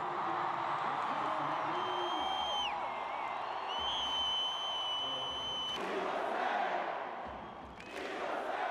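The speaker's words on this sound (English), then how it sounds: "we don't turn back, chants the crowd." A large crowd at a Rouhani campaign rally in Iran chants in unison, a loud, dense roar of many voices with rising and falling rhythmic calls and whistles cutting through near the middle.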